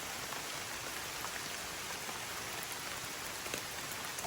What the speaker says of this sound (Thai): ตอนนี้ฝนตกอย่าเพิ่งเข้ามาป่า